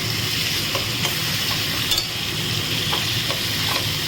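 Chicken being sautéed (kosha) in a pan with turmeric, Kashmiri chilli powder and a little black pepper for a home-style chicken do pyaza: a steady, close sizzle of frying, with faint stirring scrapes throughout and no talking.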